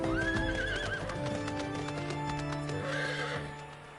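Horses in the video game Final Fantasy XIV neigh and whinny loudly, with hooves clip-clopping underneath; a second whinny rises near the end.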